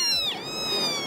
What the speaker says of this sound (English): The meows of gratitude.